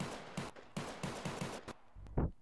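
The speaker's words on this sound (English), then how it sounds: "That is a lot of gunfire." Rapid bursts of gunfire in the video game Garry's Mod crackle in quick succession, several sharp volleys followed by a heavier low thump near the end.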